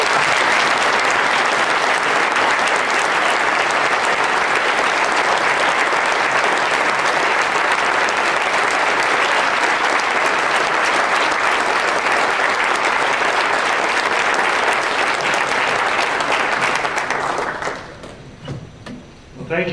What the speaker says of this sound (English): let's give a very warm round of applause to Jim Abbott